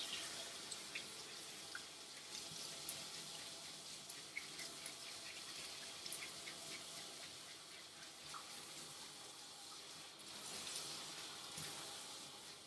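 Water runs steadily and splashes while rinsing conditioner off a standard poodle's coat during grooming, a continuous hiss with soft drips, fairly close and alone.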